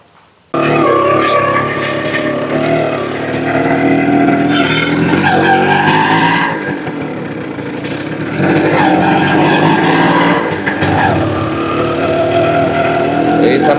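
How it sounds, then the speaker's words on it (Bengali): A modified Honda H100 motorcycle engine runs loudly and steadily nearby on a test run, revving with a brief dip in intensity midway before roaring back up. "এটা এখন ট্রায়াল দেওয়া হচ্ছে গাড়ি ইঞ্জিন মোটামুটি এখন ভালো হচ্ছে"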